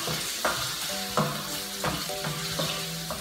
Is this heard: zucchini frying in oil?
yes